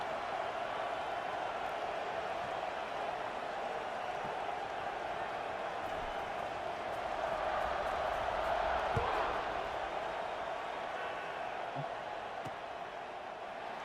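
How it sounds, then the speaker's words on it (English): A stadium crowd at an American football game murmurs and roars steadily after a score, a dense, far-reaching wash of voices that swells slightly midway and never drops away. "this crowd is buzzing after that last score"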